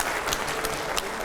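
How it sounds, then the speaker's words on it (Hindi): Loud, dense applause from a studio audience at a Hindi political discussion show, a steady wash of many hands clapping throughout with no pauses. "तालियां हो जाए जोरदार"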